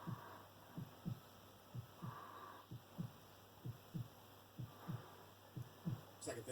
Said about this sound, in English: This is my heartbeat,